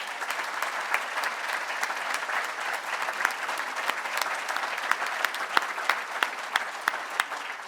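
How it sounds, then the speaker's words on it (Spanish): Sustained applause from an audience at an awards ceremony, a dense, even wash of many hands clapping with scattered louder individual claps, steady throughout. "Les pido que le den un aplauso."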